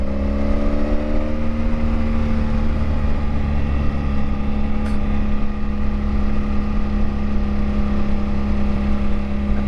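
A 1983 Honda Magna motorcycle is ridden after sitting for 18 months, its engine a steady, loud, close drone with the pitch settling as it cruises.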